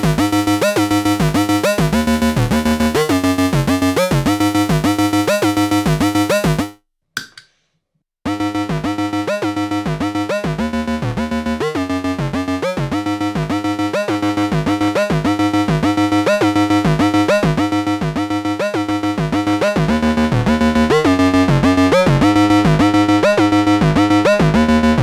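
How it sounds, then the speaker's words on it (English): Arturia MicroBrute synthesizer played through an overdrive pedal on a low setting, a loud driven riff of repeating notes with a brief dropout near seven seconds, then continuing steadily with no talking. "So next up we have the micro Brut here running into the pedal."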